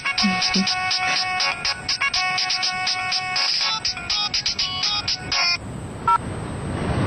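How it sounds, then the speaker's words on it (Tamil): A mobile phone ringtone plays a bright, repeating electronic melody for about five seconds as a call comes in from a daughter's school, then cuts off into quiet room tone with one brief soft knock. "என் பொண்ணோட ஸ்கூல்ல இருந்து போன் வந்தது."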